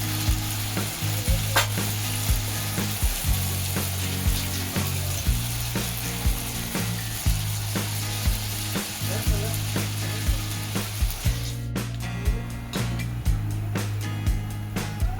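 Urad dal bhaji frying in hot oil, a steady dense sizzle that stays loud and constant, with occasional stirring clinks and scrapes and a brief burst of crackling near the end.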